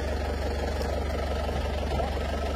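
A used commercial vehicle's engine idles close by with a steady, even low hum and a soft regular pulse, holding at a constant level.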